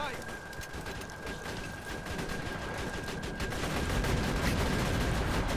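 Rapid weapon gunfire in Borderlands 2 keeps up as a dense, steady stream of shots with a constant tone running through it. The firing grows slightly louder toward the end, and voices talk underneath.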